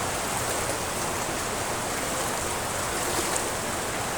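Steady heavy rain and rushing floodwater during Typhoon Carina in Barangay Pinagsama, a dense, unbroken broadband wash with no voices.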